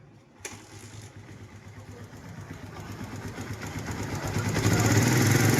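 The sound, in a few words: motorcycle engine running with a ticking knock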